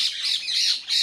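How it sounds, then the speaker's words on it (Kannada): A single parrot gives harsh, shrill squawks in quick succession, loud and close. "ನನಗಂತೂ ತುಂಬ ಇಷ್ಟ ಈ ಸದ್ದು ಪಕ್ಷಿಗಳ ಸದ್ದು"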